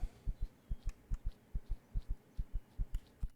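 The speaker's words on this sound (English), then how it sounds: "That heartbeat is my stamina running out." A video game heartbeat pulses in Empyrion as the player's stamina runs out: steady, evenly spaced soft thumps, each a quick double beat, low and muffled, repeating about fifteen times with nothing else over them.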